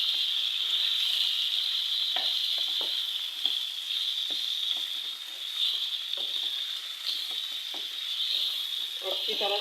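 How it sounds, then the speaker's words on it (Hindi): Colocasia (arvi) and mutton fry in a pan for a dhaba-style arvi gosht, giving a steady, loud broadband sizzle throughout with scattered stirring scrapes and clicks, no voices. "अच्छी तरह से इसको फ्राई करेंगे इतना कि इसका कलर चेंज हो।"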